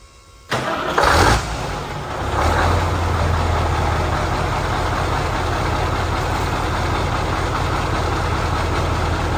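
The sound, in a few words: semi truck engine with new turbo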